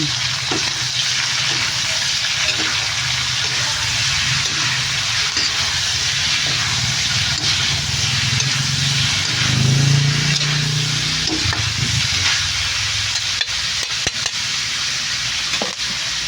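Vegetables for Ilonggo-style pancit are stirred in a hot pan, giving a steady loud frying hiss with soft scraping and a brief swell of sizzle partway through.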